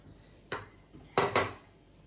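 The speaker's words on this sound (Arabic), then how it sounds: "غنبدا نسرح دابا بالمدلك" Taco dough being rolled out with a rolling pin, three short scraping rubs against the board, the last two close together, near and fairly soft with no talk.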